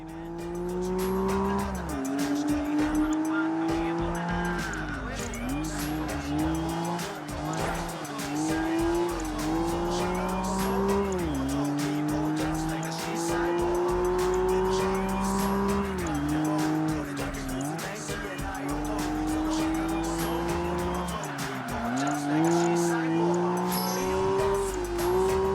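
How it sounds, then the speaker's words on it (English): A car in Project Gotham Racing 3 drifts sideways through corners, its engine revving in rising and falling sweeps while tires squeal and skid steadily and loudly throughout, with no talk. "It's easy to throw your car sideways into a corner at speed, and the physics are usually lenient enough to let you drift through and continue on."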